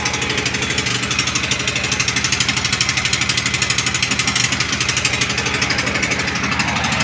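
A small engine, likely a generator, runs at idle just after starting, a loud, steady, rapid chugging rumble with even mechanical knocking that continues without pause.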